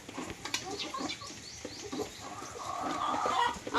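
A hen clucks repeatedly after laying a fresh egg, with irregular close-up cackles and bursts growing louder toward the end.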